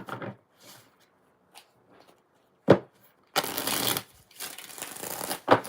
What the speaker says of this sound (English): Five shuffles for KMK.